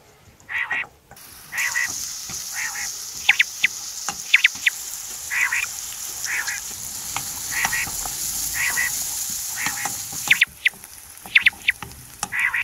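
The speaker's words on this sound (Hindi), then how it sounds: "अब फ्राइंग पैन में हस्बे ज़रूरत ऑयल डालकर प्याज शामिल कर दिया है" Onions fry in oil in a frying pan for quail karahi, giving a steady loud sizzle broken by repeated crackling bursts. The sound is close, with no voices.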